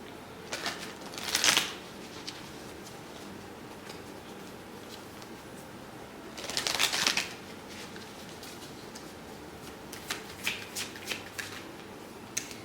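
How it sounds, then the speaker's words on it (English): A Mermaid Tarot deck is shuffled in two distinct bursts of riffling card noise, close and crisp, followed by lighter taps and flicks of the cards. "we're gonna pull from the Mermaid Tarot deck."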